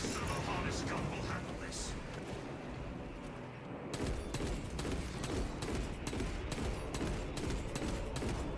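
An automated turret in Space Marine 2 fires rapid bursts, a dense rattling stream of shots that drops away briefly and then returns in sharp repeated volleys amid loud battle noise.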